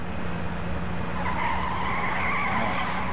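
A video game car skids and revs continuously through the whole stretch, a steady loud tire squeal over a droning engine with no pauses.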